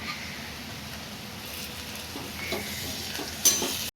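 Green paste of chili, ginger and coriander stirred and sautéed with onion in hot oil, a steady close sizzle with soft stirring scrapes and a brief louder clink near the end, no talking.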